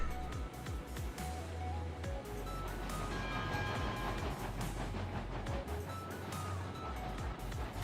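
Railroad locomotive and its cars rolling past in a train game, a steady rumbling roar with repeated clanks and thumps of wheels over joints, fairly loud and continuous, with no talk over it.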